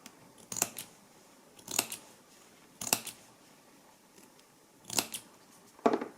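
Five sharp snips of Crimsonhides Fujiya thread nipper scissors cutting canvas, spaced a second or so apart, each a crisp crunchy cut, close by with quiet room noise between.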